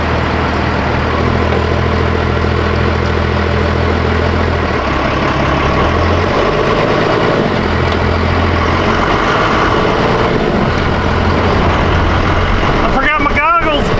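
A truck engine runs loud and close with a deep, steady rumble while it is driven to check the brakes, and a voice talks over the engine noise near the end.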